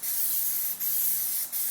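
Aerosol can of Plasti-Dip rubber coating sprayed onto a car in a body and paint shop, a loud continuous hiss laid on in overlapping passes, briefly dipping twice as the stroke changes.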